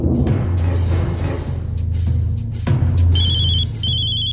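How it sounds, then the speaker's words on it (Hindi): A mobile phone ringtone sounds in a Hindi television crime drama, with bright repeating electronic beeps cutting in partway through over a low, droning background. "वीर जी का फोन।"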